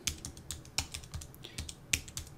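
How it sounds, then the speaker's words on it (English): Clicks from a computer keyboard as a command is typed, about a dozen fairly quiet key presses in an uneven rhythm with a few sharper strikes, close up and without talk. "in here, we need to type in masternode start"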